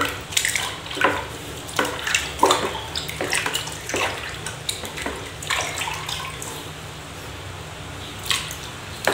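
Wall putty mixed with water being stirred in a container, giving repeated wet scraping and sloshing strokes at a steady, irregular rhythm, close and fairly clear with no talk.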